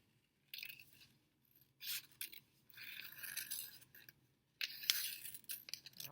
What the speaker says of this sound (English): Cut out your paper.